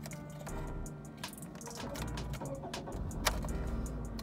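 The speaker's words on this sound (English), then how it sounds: "We're going to start up the vehicle." A 2011 Toyota RAV4 engine cranks and starts up, then settles into a steady low idle rumble close by, with a few faint clicks and rattles inside the cabin and no voices.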